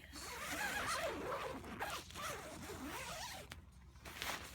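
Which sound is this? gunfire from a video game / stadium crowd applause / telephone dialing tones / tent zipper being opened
tent zipper being opened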